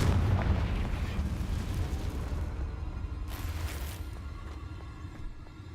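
A Confringo blasting spell explodes in the video game Hogwarts Legacy, a deep booming rumble that starts loud and slowly fades over several seconds, with a brief burst of crackling debris midway.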